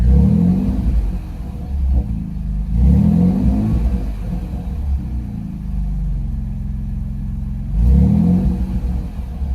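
A deep exhaust rumble from a turbocharged Ford Ranger truck with a Flowmaster 40 Series muffler idles and swells in a few revving bursts, loud and close, with no one talking.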